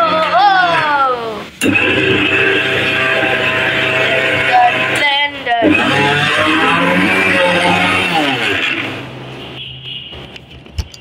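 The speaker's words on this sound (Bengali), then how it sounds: "তারপর এখন আমরা ব্লেন্ডার করব।" Kitchen blender whirring through homemade Nutella ingredients, a loud, harsh motor drone that cuts out briefly near the start and again midway, then winds down toward the end.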